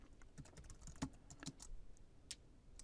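Quiet, close typing on a computer keyboard, with soft irregular key clicks and a few sharper taps over a short stretch.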